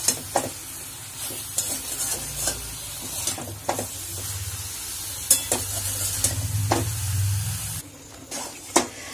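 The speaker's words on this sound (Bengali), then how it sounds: "ভালো করে একটু কষাতে হবে।" Red meat stir-fried in a pan with Kashmiri chili powder, spices and salt, a low continuous sizzle broken by repeated sharp spatula scrapes and clinks against the pan, close and fairly loud.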